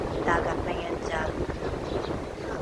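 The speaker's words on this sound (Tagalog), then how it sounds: "Lakas na ng hangin." Strong seaside wind buffets the microphone in a steady, loud rumble, with a voice talking faintly underneath.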